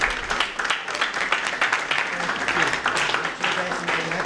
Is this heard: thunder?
no